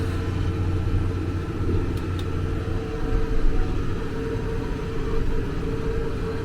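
A dirt scraper's engine runs while leveling a site, a steady low rumble close by that swells briefly midway.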